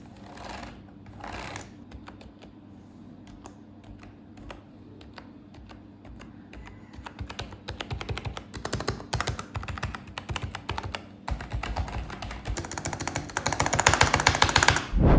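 Clicky Logitech G213 gaming keyboard keys typed in irregular bursts, fairly subdued at first, then growing faster, denser and louder toward the end, with no talking.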